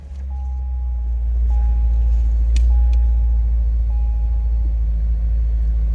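A 2008 Chevrolet Corvette Indy Pace Car coupe's engine catches and settles into a steady, deep idle rumble, close and continuous, with a faint chime beeping at intervals and no talking.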